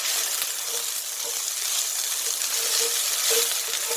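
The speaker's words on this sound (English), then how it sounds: "And give it a good fry." Onions, herbs and garlic fry in a hot pan with a loud, continuous, hissing sizzle that holds steady throughout, close up, with no voices.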